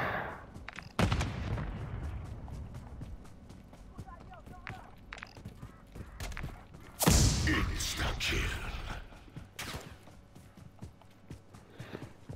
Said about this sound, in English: Still got people shooting at me